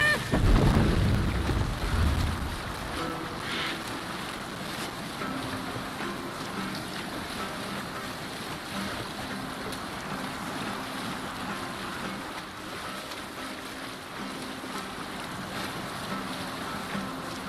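Sailing ship cutting through waves in Assassin's Creed Valhalla, a steady wash of water and wind rushing past, with a louder surge at the start before settling into an even, continuous roar.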